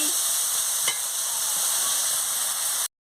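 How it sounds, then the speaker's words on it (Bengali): Spice paste being fried and stirred in a pan for a Bengali magur fish curry, a loud, even sizzle close by with one brief scrape, ending abruptly. "মশলাটাকে ভালো করে কষিয়ে নিচ্ছি"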